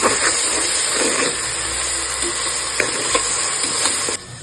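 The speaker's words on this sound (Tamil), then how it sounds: "ஒரு டூ டீஸ்பூன் ஆட் பண்ணிக்கலாம் இதுவும் நல்லா ஃப்ரை ஆகும்" Ginger garlic paste fries and sizzles loudly in a hot pan while being stirred, a dense, continuous hiss with small scraping bursts and no talking.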